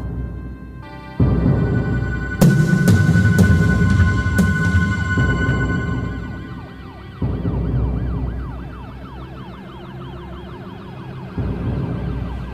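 A police siren wails loudly outside as a drama sound effect, its rising and falling tone sweeping steadily over a low vehicle rumble, with a few sharp clicks early on.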